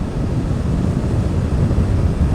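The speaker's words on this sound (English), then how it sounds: "Extremely windy, I must say. So windy." Steady, roaring wind buffeting the microphone while riding a Suzuki GSX-8R motorcycle, a dense low rumble that stays constant throughout with no voices.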